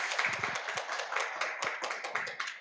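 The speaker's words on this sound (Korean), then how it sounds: "다시 한번 따뜻한 박수 부탁드리겠습니다" Scattered clapping from a modest audience at an international media literacy conference, a few individual hand claps standing out close by amid softer clapping, fairly quiet overall.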